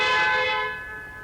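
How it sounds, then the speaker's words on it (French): A car horn sounds one sustained, steady honk during a driving lesson. The blast is loud at first, then fades slightly as it holds to the end. "Pour avoir le klaxon, vous appuyez simplement sur la commande."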